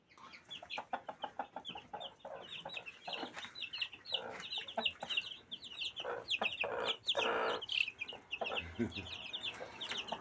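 A hen with twelve chicks on a small chicken farm clucks in quick repeated bursts while the chicks peep in high chirps, close and fairly loud, continuous throughout.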